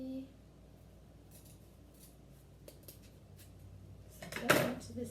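Scissors cut a V notch into the end of a handmade craft bow, giving one crisp, close snip near the end after a stretch of quiet room hiss.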